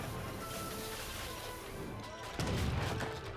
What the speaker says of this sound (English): And this town is under fire